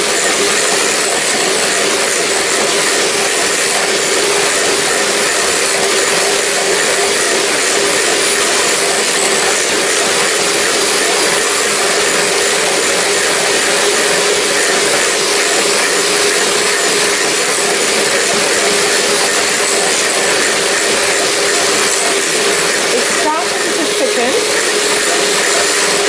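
An electric mixer runs steadily at full speed, whisking a no-bake lime cheesecake mixture, a loud continuous whirring drone that holds unchanged for the whole stretch with no talk.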